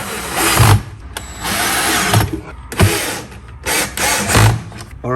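Power drill driving four bolts into a Tesla Wall Connector face plate, heard in several short, loud whirring bursts separated by brief pauses, close up with no talking.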